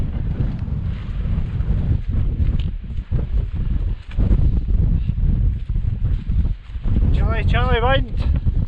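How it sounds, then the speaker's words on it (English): Chilly mountain wind on the Applecross Corbetts, Sgurr a' Chaorachain and Beinn Bhan, rumbles and buffets the microphone continuously, with a voice speaking briefly near the end. "Chilly wind."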